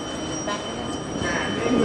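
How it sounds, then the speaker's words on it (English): A train pulls out of Orvieto station in Italy, with a loud continuous rumble of rolling wheels and high metallic squeals rising toward the end, heard from inside or close by. "Leaving Orvieto train station."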